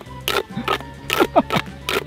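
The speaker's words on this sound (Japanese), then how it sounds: "曲げるとポキポキ音が鳴る" A plastic toy tube is bent repeatedly, giving a series of sharp, close pops and clicks in irregular bursts, with brief voices mixed in.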